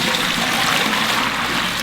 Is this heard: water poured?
yes